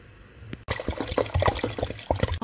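Hot water poured into a cooking pot for Moroccan harira soup, a continuous splashing, gurgling stream with small bubbling bursts, close and fairly loud, running unbroken for about two seconds after a brief quiet start.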